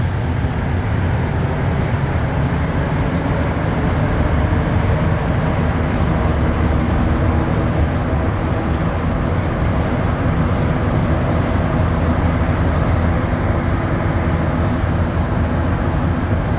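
Montreal Metro Orange Line train riding at night toward Montmorency: a steady, loud, close rumble of the car on the rails with a broad low-frequency roar that stays even throughout, with no talk.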